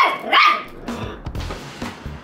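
A dog barks sharply once up close, followed by a few lower, muffled barks and growls in quick succession.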